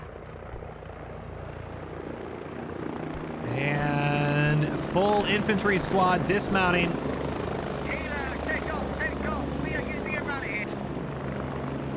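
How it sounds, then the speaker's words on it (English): Helicopters touching down in the military game Squad, a steady rotor and engine drone that grows louder midway, with someone talking over it and radio-like voices in the background. "Both helicopters now about to touch down."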